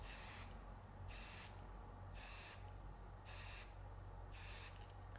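A shaken aerosol can of Regalead sprays very light coats in five evenly spaced hissing bursts, each roughly half a second long, over a steady low background hum.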